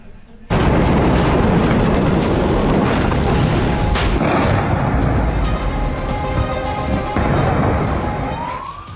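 Explosions and artillery fire from an Iranian missile attack on a US military base in the Middle East, heard as a loud, sustained roaring blast with rumbling booms and a faint rising siren-like tone near the end.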